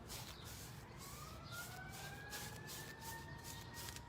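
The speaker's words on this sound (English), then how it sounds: "It wouldn't be a live show without some sirens" A siren wails steadily in the distance, its rising and falling tone sweeping over a constant background rumble of traffic.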